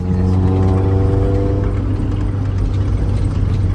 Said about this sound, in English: All right, so we're test driving it.